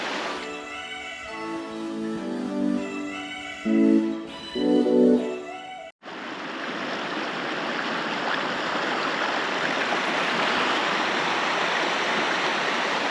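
Mission Creek rushes along in a steady broadband flow, a dense unbroken wash of water that fills the second half, preceded by a few seconds of tonal music.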